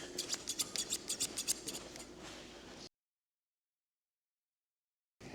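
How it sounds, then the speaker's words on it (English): Scissors snipping off embroidery backing, a quick series of about ten crisp close cuts in rhythm for nearly three seconds, followed by silence. "we're going to cut off the backing of this"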